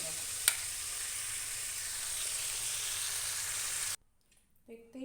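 Bhola fish fry in a pan of hot oil with a steady, close sizzle. The sizzle stops suddenly near the end and is followed by a brief faint sound.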